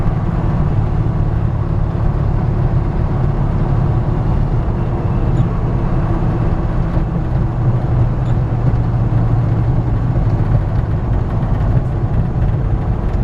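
A 1960 Chevrolet C-10 pickup with a V8 and automatic transmission cruising down the road, its exhaust giving a continuous low rumble with steady road and cabin noise throughout, loud and close.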